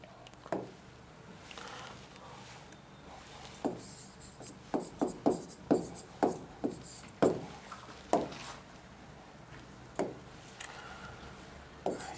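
A teacher writes examples on a board, with scattered short scratchy strokes and taps, irregular and close, louder in a busy middle stretch, with faint room tone between strokes.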